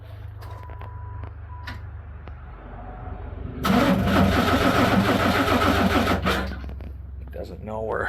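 A Pontiac Fiero engine cranks loudly for a few seconds as someone tries to start it with the throttle position sensor disconnected, a steady churning that stops abruptly, with people talking before and around it.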